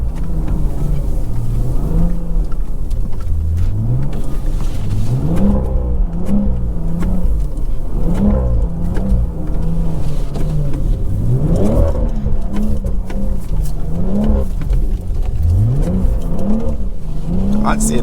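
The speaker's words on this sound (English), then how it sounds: "I'm kind of just doing donuts." A BMW 340i doing donuts downtown at night: a loud, close engine revs again and again, its pitch swooping up and falling back in repeated cycles, with a voice talking over it.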